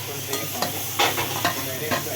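Cashews and potatoes sizzling in a tempering of curry leaves in a wok, a steady close frying hiss with several short stirring scrapes breaking through.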